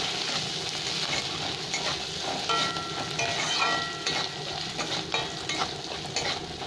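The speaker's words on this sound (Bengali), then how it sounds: "এবার দেবো আমি আদা বাটা, আদাটা ভালো করে ভেজে নেবো একটু।" Ginger paste sizzles and fries in a pan while cooking a green peas dal, a steady close crackling hiss with occasional scraping stirs and utensil clinks.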